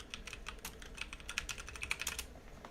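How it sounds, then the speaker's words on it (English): Quick, light keyboard clicks patter in an uneven burst, quiet and close, with no talking. "Sorry if you can hear me typing."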